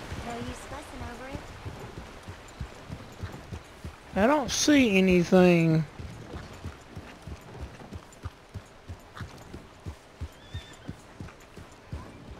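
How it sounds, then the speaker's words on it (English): Horse hooves clip-clop in a steady, close rhythm in Red Dead Redemption 2, with a loud whinny partway through, light rain, and someone talking over the gallop. "Coming through on the horse."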